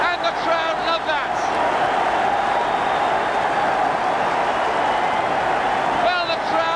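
A Bristol City football crowd roars after a headed goal, a loud, dense, sustained roar that fills the whole stretch, with a commentator talking over the start and the end.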